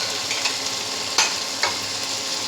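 Boiled moong dal is stirred into a sizzling fish masala made with rohu fish head in a pan, giving a steady frying hiss with a couple of sharp stirring scrapes and splashes, close and moderately loud with no talking.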